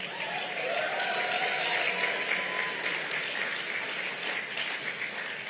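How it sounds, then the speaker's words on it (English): An audience applauds at a primary-night speech event, with a continuous wash of many hands clapping at a steady level, moderately distant and sustained throughout. "Give them a round of applause as well"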